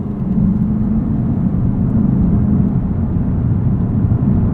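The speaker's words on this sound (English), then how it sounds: "I'm driving this and I'm kind of have the feeling that this might be one of the last 5-liter V8s I'll be driving from Lexus" 2020 Lexus RC F with its 5-liter V8 heard from inside while driving, a steady low engine drone and road rumble, loud and constant with no speech.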